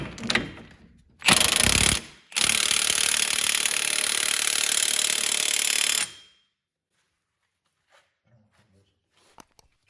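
Short loud bursts of an impact or ratchet tool tightening a 30mm front wheel hub nut on a Chevrolet HHR, one brief buzz then a longer four-second run, followed by near silence with a few faint clicks.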